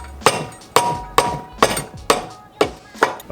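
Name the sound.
hammer striking crusty turbo compressor housing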